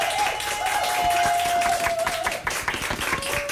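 A canned applause effect plays on air in a live KCNI/KBBN radio studio, a steady wash of crowd clapping with a faint tone underneath, thinning out toward the end.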